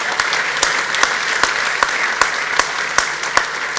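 An audience applauds at a keynote opening of a sports ethics summit in Basel, a dense wash of clapping with a few sharp, louder claps standing out at regular intervals.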